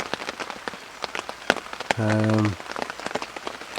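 Rain falls at a carp fishing lake, a steady close patter of drops and taps with a brief tonal hum in the middle.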